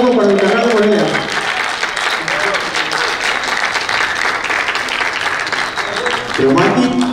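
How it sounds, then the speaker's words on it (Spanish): A crowd at a rap composition contest breaks into sustained applause, loud and steady, with voices talking over the clapping at the start and end. "Fuerte el aplauso para el canal de Morelia."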